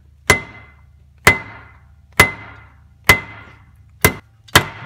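Hammer tapping a pilot bearing into place during a clutch job on a 2003-2004 Ford Mustang Cobra with a T56 transmission: six sharp metallic strikes about a second apart, close and loud, each ringing briefly.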